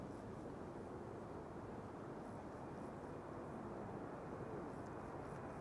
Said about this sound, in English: Here it comes, KLM Flight 691.